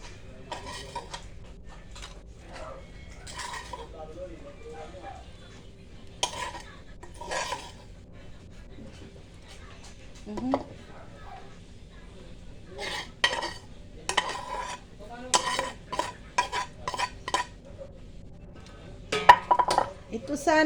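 Mayonnaise is stirred into nachos in a bowl, with intermittent scraping, clinking utensil strokes and short pauses, while a voice talks in between.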